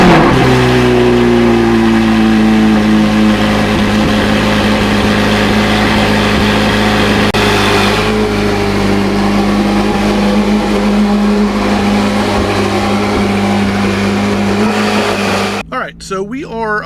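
A Chevrolet C8 Corvette's engine runs loud and close on a cold day, with a steady droning idle that rises and shifts in pitch, then cuts off abruptly near the end.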